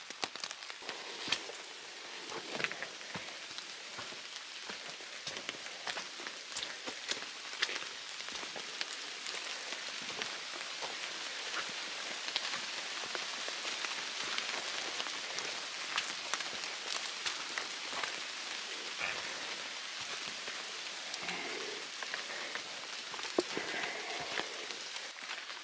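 Steady rain patters on a forest trail in the Wildcat Mountains on the Appalachian Trail, a dense continuous hiss of drops with scattered sharper taps, constant and even throughout with no voices.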